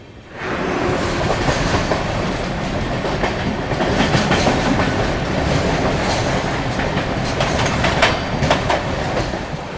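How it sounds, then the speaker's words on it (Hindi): A Duronto Express train overtaking the East Coast Express, heard from on board as a loud continuous rumble with rhythmic clickety-clack of wheels over rail joints throughout. "ईस्ट कोस्ट एक्सप्रेस को ओवरटेक किया हम लोगों ने"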